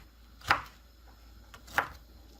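Green chillies are cut into small pieces with a knife, giving two crisp chops about a second apart. They are faint and close, with quiet between them and no talking.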